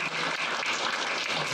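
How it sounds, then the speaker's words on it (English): Dense, steady applause from an audience at a speakers' club farewell speech, a continuous wash of clapping that keeps an even loudness for about a second and a half with no pauses. "Can you give a big round of applause to my friend?"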